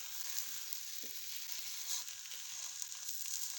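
Lachha paratha frying on a hot pan, giving a soft, steady sizzle with faint crackles, low in level and unbroken.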